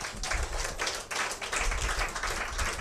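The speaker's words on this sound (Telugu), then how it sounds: "ఎవరికి అర్థమైంది వాళ్ళు మాత్రమే చప్పట్లు కొట్టండి." A church congregation claps hands together in a dense, rhythmic patter that carries on evenly over a noisy hall background.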